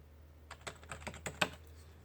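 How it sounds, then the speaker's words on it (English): Typing on a computer keyboard, heard as a quick, uneven run of about a dozen soft clicks close by over a quiet background hum. "Sorry if you hear me typing"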